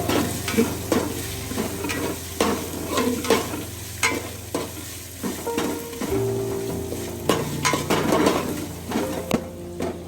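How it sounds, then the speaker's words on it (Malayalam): Onions sliced for a Kerala-style chicken curry hit a pan of frying ginger, garlic and green chilies, giving a steady close sizzle broken by repeated scraping and clinking stirs of a utensil against the pan, with no talk. "ഇഞ്ചിയും വെളുത്തുള്ളിയും പച്ചമുളകും ഒക്കെ മൂത്ത് വരുമ്പോഴത്തേക്കും നമുക്ക് ഈ സവാളയും കൂടി ഇട്ട് കൊടുക്കാം."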